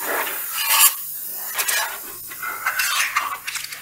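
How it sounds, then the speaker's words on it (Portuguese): A small brush sweeping dust inside a table saw, giving close, scratchy bristle strokes in uneven bursts with brief pauses between them. "Vai no pincelzinho, varre tudo."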